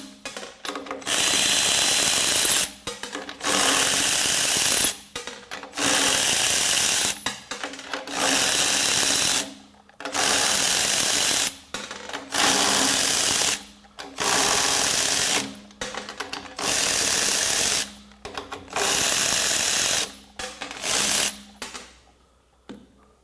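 A Milwaukee high-speed cordless ratchet runs fasteners tightened to 5 foot-pounds, whirring loudly in about ten evenly spaced bursts, each lasting a second or two, with short pauses between them.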